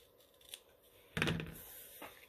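Scissors trim paper along a marked line for a craft project, giving a few close, crisp snips with one louder cutting crunch in the middle, with no talking.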